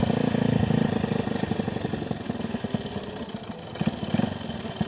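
A motorcycle engine idles close by with a low, uneven putter, the firing pulses loping and slightly irregular throughout.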